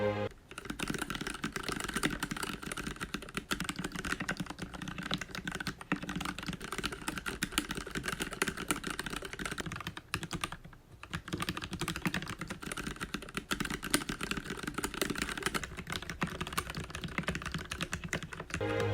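Steady, dense typing on a mechanical keyboard fitted with Gateron yellow switches lubed with Krytox 105 on the springs and a Krytox mix on sliders and housings, plus switch films; continuous soft clacks, close and moderately quiet, with a brief pause midway.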